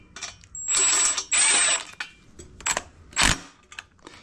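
A hand ratchet runs in header bolts on an LS-swapped Wagoneer fitted with cheap eBay headers, giving several bursts of fast metallic clicking with short pauses and a sharp clack between strokes.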